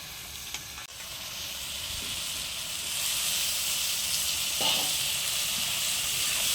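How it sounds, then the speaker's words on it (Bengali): Potatoes fry in hot oil for a Bengali village-style fish kalia, giving a steady, close, dense sizzle that grows slightly louder and carries on without pause. "আলুগুলো একটু ভেজে নেব।"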